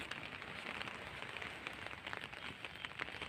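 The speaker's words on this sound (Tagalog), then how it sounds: "Kaso nga, ngayon ay maulan." Steady rain falls at Repulse Bay Beach in Hong Kong, a soft continuous patter on surfaces with a faint, even hiss and no voices.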